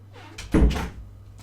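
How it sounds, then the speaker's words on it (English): A door in a home office bangs shut once with a dull thud, close and fairly loud, then a short rattle as it settles. No one speaks. "Alright, had to close the door."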